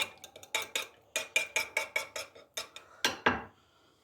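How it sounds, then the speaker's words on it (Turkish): A utensil stirs a meat marinade of olive oil and vegetable oil in a bowl, making a quick series of close, crisp clinks and scrapes in an uneven rhythm, about a dozen strokes with no voices. "Şöyle tamamen karıştıralım."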